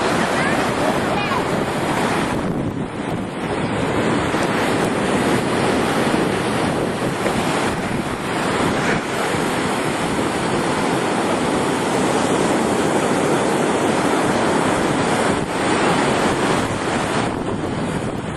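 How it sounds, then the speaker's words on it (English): Ocean waves crash and surge continuously under strong wind buffeting the microphone, loud and close with a steady roaring wash and no clear pauses. "Them waves were scaring me half to death."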